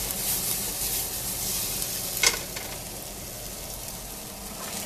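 Flaxseed breakfast sizzling steadily in a hot pan while a spoon stirs it, with a soft steady hiss and a brief scrape near the middle.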